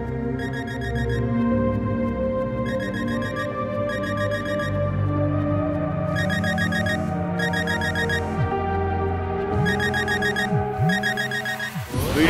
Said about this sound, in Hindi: इसकी आवाज तो एक मोबाइल फोन जैसी है